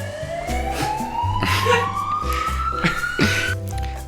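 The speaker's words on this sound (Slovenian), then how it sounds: "Sirena." A police siren wails in a loud, rising sweep that climbs steadily over a few seconds, with engine rumble and traffic underneath.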